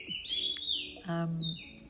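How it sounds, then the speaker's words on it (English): Several birds chirp outside a window early in the morning, sharp high tweets and short trills in quick succession, close and clear. "The birds outside my window, they are holding a committee meeting."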